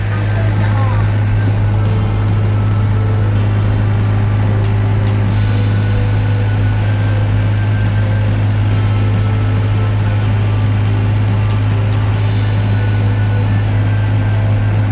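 A boat engine drones loud and steady throughout on a ride at Thung Prong Thong, Pak Nam Prasae, Rayong, a constant low rumble close at hand with faint water and wind noise over it.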